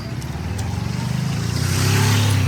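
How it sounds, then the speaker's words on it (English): A bus or other vehicle passes on a road near Pyramid Valley, Bengaluru, its engine rumbling steadily and growing louder and closer over a couple of seconds. "The bus is coming."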